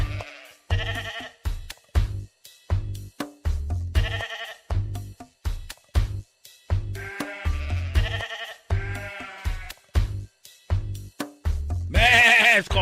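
Sheep bleat over and over in a rapid, choppy series of short bursts, loud and close, used as a radio show segment sound effect, ending with a longer, brighter bleat.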